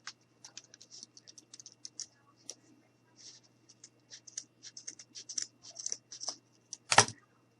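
Scissors trimming craft material for a gnome, a run of small quiet snips and rustles in an uneven rhythm, close-up, ending in a louder scrape of handling.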